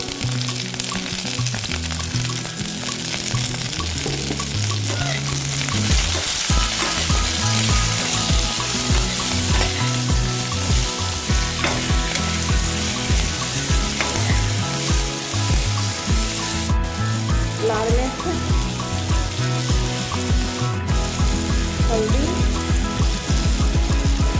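Capsicum pieces sear in a hot pan, a continuous dense sizzle with occasional stirring scrapes, fairly loud and close and free of speech.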